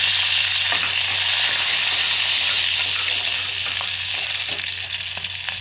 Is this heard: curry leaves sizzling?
yes